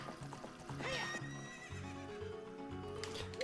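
Horse neighing in the Zelda Ocarina of Time video game, a loud whinny with rising and falling pitch over a music track and hoof clip-clop, continuous for several seconds with no talking.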